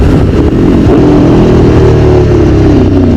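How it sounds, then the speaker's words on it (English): A motorcycle fitted with bolt-on power upgrades accelerates hard and loud, its engine note rising in first gear before a brief dip as it shifts into second and climbs again, no talking. "When I just went from first to second gear, the front end was doing like a power wheelie"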